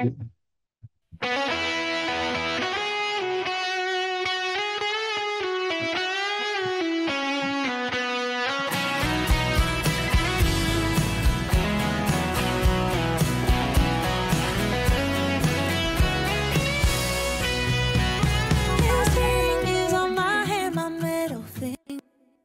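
A recorded electric guitar solo plays with natural overdrive distortion, miked with a 57 and a 47 on a Fender Basement amp. Distorted sustained lead lines ring out loud and continuous, and the band joins in fuller about halfway through.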